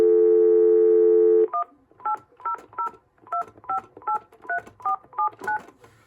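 A Uniden CEZAI2998 desktop cordless phone on speakerphone plays a held dial tone, then a quick run of about a dozen crisp, evenly spaced dialing beeps, close and clear, with no talking.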